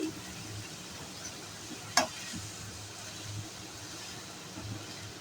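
Boiled rice stirred and tossed in a hot pan with vegetables for chicken fried rice, a soft steady sizzle with light scraping, one sharp clink near the middle, no talking.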